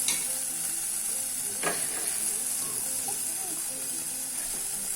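Okra (bhindi) fries in a pan, a soft continuous sizzle and hiss at moderate distance with one sharp scrape partway through and faint stirring clatter.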